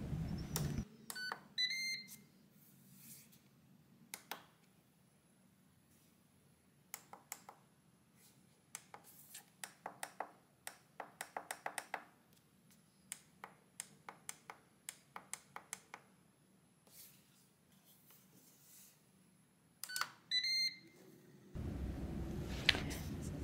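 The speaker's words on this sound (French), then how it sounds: "au bout de 10 minutes, votre air fryer va sonner" A Ninja air fryer signals the end of a bake cycle with short bursts of electronic beeps near the start and again near the end, separated by sparse light clicks and taps in a quiet kitchen.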